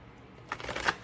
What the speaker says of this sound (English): We'll shuffle a little bit more.